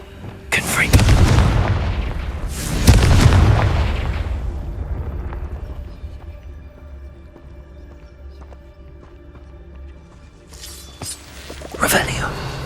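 A Confringo spell explodes in Hogwarts Legacy: two heavy, booming blasts close together, each trailing a rumbling decay, then a quieter stretch before another burst near the end.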